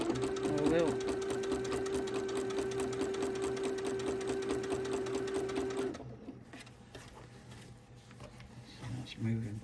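A domestic sewing machine stitches straight quilting lines on a candlewick quilt, a steady, rapid, close mechanical whir for about six seconds before it stops, leaving only faint handling sounds.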